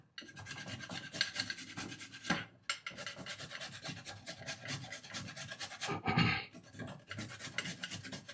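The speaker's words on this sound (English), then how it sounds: "You also grate your ginger, as you see." Fresh ginger is scraped across a grater in quick, uneven rasping strokes, close and moderately quiet, with brief pauses between bursts.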